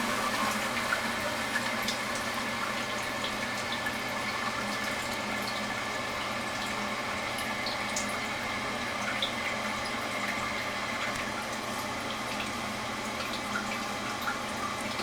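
A toilet tank fills through a fill valve, tested here as a Korky 528MP against a Fluidmaster 400A, giving a steady, unbroken rushing hiss of water for the whole stretch with no talking.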